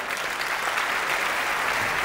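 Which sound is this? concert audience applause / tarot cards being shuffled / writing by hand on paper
concert audience applause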